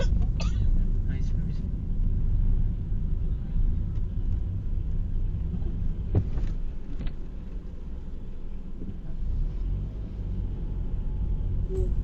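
Car cruising on a highway during a Mumbai to Mount Abu road trip, heard from the back seat as a steady low rumble of engine and road noise with occasional bumps.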